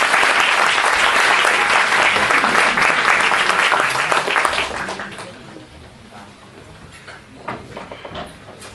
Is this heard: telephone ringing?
no